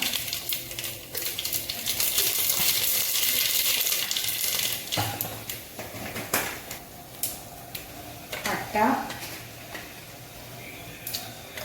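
Mustard seeds crackling and popping in hot oil in a pan, a dense sizzle with sharp scattered pops that thin out into sparse crackles.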